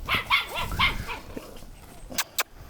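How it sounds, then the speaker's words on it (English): A dog barks close by in a quick burst of four or five sharp barks, followed by quieter yips and snuffles. "y'all can hear my dog Cosmo threatening her every time she goes by"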